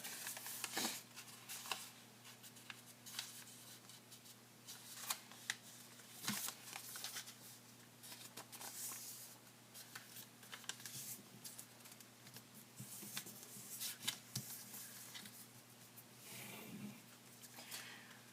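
Traditional origami paper being folded into a three-petal iris, with soft crisp crinkles and papery taps scattered steadily throughout, close and quiet over a faint steady hum.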